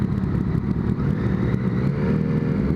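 A Yamaha FZ-09 (MT-09) motorcycle engine runs with a steady, low, throbbing rumble, heard close and continuous with a slight rise in pitch near the end.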